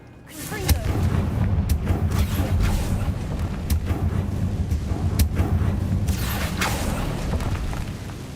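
Repeated Confringo fire-blast spells from combat in Hogwarts Legacy: a string of booming, cracking impacts over a continuous low rumble of battle noise, loud and near.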